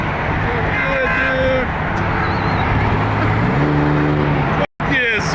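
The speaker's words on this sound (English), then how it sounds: "Here he comes. Look at him. Yeah! It's a 6-cylinder!" A six-cylinder car at a no-prep street drag race roars past loudly with a rising engine note, while excited spectators shout and cheer over it throughout.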